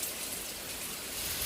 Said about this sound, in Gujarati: આહા વરસાદ જુઓ તમે, ફટાફટ આવે.